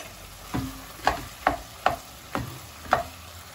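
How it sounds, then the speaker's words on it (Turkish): Tomato paste sautéing in a pan gives a soft, faint sizzle, with about six quiet knocks of a spoon stirring at a steady pace. "Ve kokusu çıkana kadar birlikte kavuruyorum."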